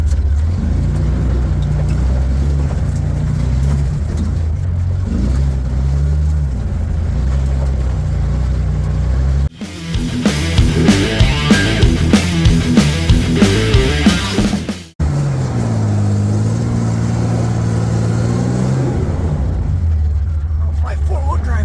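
Willys Jeep in four-wheel drive churning through mud and snow, its engine droning steadily, then revving hard with wheelspin for several seconds before settling back to a low idle rumble, with people talking over it.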